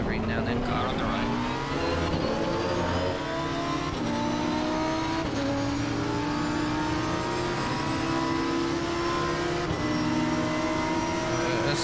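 A Lamborghini race car in Assetto Corsa Competizione at the wet Spa 24 Hours drones at high revs, its engine note climbing in steady upshifts and shifting pitch continuously, loud and close with other cars around.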